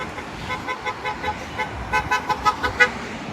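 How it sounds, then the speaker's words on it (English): Car horns honk repeatedly in short toots from passing traffic at a teachers' strike in southwest Washington, growing louder and more frequent toward the end over steady road noise. "listen to these people honking"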